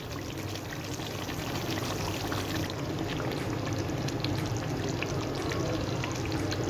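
Potatoes are added to fried koftas in a cooking pan, giving a continuous, fairly loud hissing rush of frying and tumbling pieces that stays even throughout with no talk.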